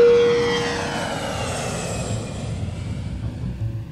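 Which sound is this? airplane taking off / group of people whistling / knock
airplane taking off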